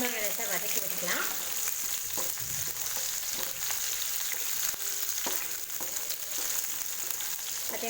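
Chopped green chilies fry in hot oil for an egg curry, giving a steady close sizzle with occasional stirring clinks and scrapes, no talking.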